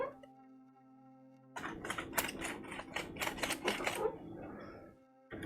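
Film being loaded onto a Jobo processor reel, a close burst of quick ratcheting clicks and small plastic rattles in an otherwise quiet room, fading back to near silence.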